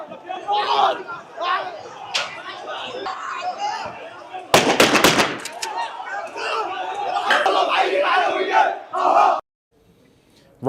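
A protest crowd clashes in the streets of Homs, Syria, with loud shouting and chanting, a sudden burst of sharp bangs like gunfire or firecrackers, and roaring voices before an abrupt cut to near silence.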